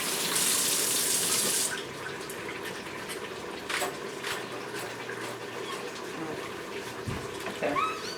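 Tap water runs into a sink while items are rinsed under it, a steady close rush of water with small clinks and splashes and a brief louder gush at the start.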